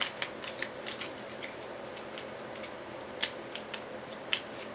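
Weakness cards for the Nemesis board game are shuffled close up, a faint run of soft crisp riffling clicks and flicks, some sharper, over a quiet room.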